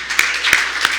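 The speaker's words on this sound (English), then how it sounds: "You can clap there." At a human trafficking awareness seminar, a few audience members clap sparsely: three distinct, sharp claps spaced about a third of a second apart over a low room hum.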